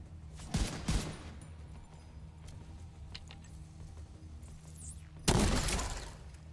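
Gunfire in The Division 2 comes as a few loud, sharp bursts: two close shots early, then a heavier blast later, with quieter game ambience between them.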